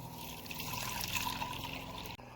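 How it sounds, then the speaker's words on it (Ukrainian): Water pouring steadily into a container, a litre for a cleaning solution to soak sooty camping cookware, a continuous splashing trickle that stops abruptly near the end. "додаю літр води"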